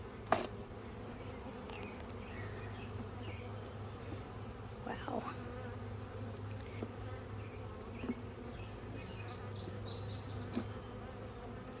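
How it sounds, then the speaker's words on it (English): A dense, steady insect buzz of many honeybees around a hive in a bee yard fills the scene close by, with a brief exclamation and a few faint voices over it. "Got a lot of bees on my back."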